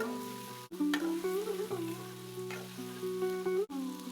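Potato and sweet pumpkin pieces fry in a pan for khichuri, giving a soft, continuous sizzle with a faint steady hum beneath it and no talking.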